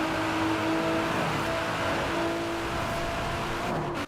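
Nissan GT-R with 1,000 horsepower accelerating in the Forza Horizon 4 racing game, a steady loud engine drone with rising tonal whine that holds throughout before cutting off abruptly at the end.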